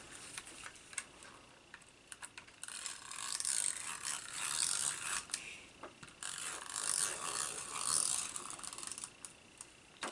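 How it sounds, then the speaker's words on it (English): Close, fairly quiet ratcheting clicks and a soft crackling rasp as a rolling adhesive tape runner is pulled across a scrapbook page in a few short strokes, with quieter handling gaps in between. "I'm going to use my rolling adhesive."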